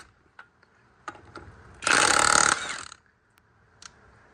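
A Hercules 1/2 inch impact wrench hammers off a lug nut torqued to 130 foot-pounds in one loud, close, rattling burst of under a second. Light clicks and handling noises come before and after it.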